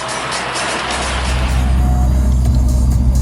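A car drives through roadworks on the M62 at 50 mph, a loud, steady in-cabin road rumble and engine drone with no speech.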